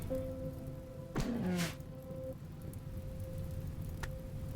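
Steady rainfall ambience from the video game RimWorld, falling over a burning map tile as a continuous soft patter with one brief louder rush and no talking.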